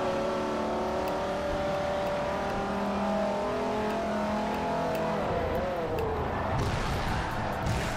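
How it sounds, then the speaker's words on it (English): A Lexus LFA racing car in the video game Forza Motorsport 4 roars past with a high, rising engine note that sweeps and fades, alongside other car noise and a faint tire squeal. "There goes the Lexus LFA."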